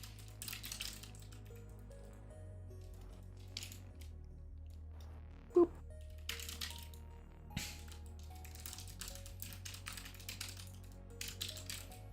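A computer keyboard is typed on close to the microphone during a livestream, with irregular bursts of clicky keystrokes and pauses over a faint background hum and soft music, plus one sharper knock.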